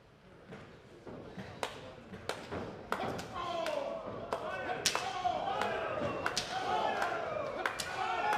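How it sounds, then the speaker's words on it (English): Loud chest chops land during an indoor wrestling match between Yayah and Chris Dickenson, a rapid series of sharp slaps echoing in a hall under steady commentary. "Huge chops there."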